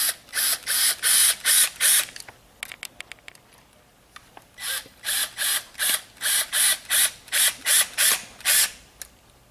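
A Leviton plug piece being tightened down like a flange, heard as loud, close, rapid ratcheting clicks in regular bursts, broken by a short pause of softer scattered clicks.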